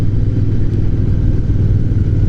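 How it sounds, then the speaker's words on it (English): A Royal Enfield Bear 650 scrambler motorcycle's twin engine lugs along in fourth gear at low revs, a steady smooth loud drone with no talk over it. "We're in the fourth gear, so the revs are very low and there's no twitchiness."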